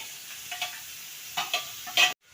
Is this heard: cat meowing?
no